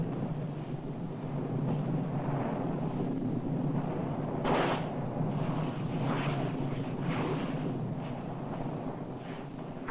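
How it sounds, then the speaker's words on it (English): Nyiragongo's lava lake, a constantly erupting volcano inside a giant crater bowl of volcanic rock, gives a continuous deep roar with rumbling bursts and crackling surges, including one sharp burst midway through. "a constantly erupting volcano"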